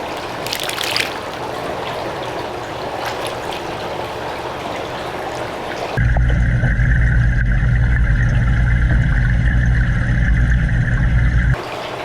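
Water splashing as native fish are poured from buckets into a large pool pond: a steady trickling stream of water at first, then a sudden, much louder close-up rush of pouring and splashing that stops abruptly.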